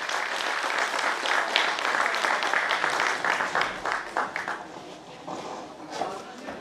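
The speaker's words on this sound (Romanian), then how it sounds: "vă rog să-i aplaudați" An audience at a folk and traditional music festival applauds a guest, the clapping loud and dense at first, then thinning into scattered claps, with a voice speaking under it.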